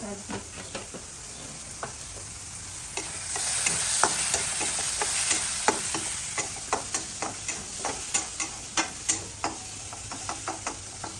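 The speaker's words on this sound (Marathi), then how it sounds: "मसाला पण छान फ्राय झालेला आहे" Homemade masala spice mix frying in a pan for a monsoon vegetable dish, a steady close sizzle with frequent sharp stirring knocks and clicks of a spoon against the pan, with no talking.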